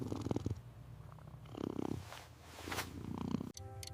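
A cat purrs in warm indoor surroundings, a steady close rumbling that swells and fades in several breathing cycles, with a brief sharp clatter near the end.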